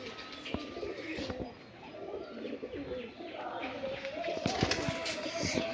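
Giribaz pigeons, one a male fitted with small bells on its legs, coo and chirp at close range, with scattered sharp clicks and rustles throughout.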